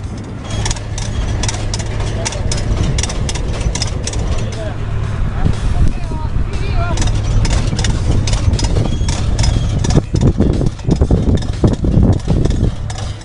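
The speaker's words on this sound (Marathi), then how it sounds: "त्यांचा मुलगा लावणीचं ट्रॅक्टर चालवताना दिसला" A tractor engine runs during lettuce planting on a farm, a steady idling mechanical drone with a low hum, fairly loud and close, heard under a person talking.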